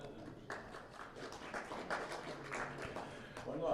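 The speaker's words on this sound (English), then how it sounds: "The crowd applauding" Crowd applause ripples through the gallery at a squash semifinal, Thierry Lincou against Robbie Temple, as the opening point is won. A steady, moderate wash of clapping runs throughout, with a voice talking over it.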